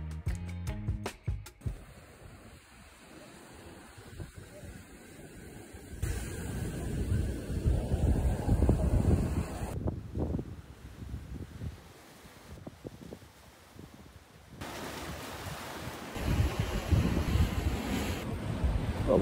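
Strong wind blowing across an open coastal spot in Cornwall, a continuous low roar buffeting the microphone with rising and falling gusts, with no voices.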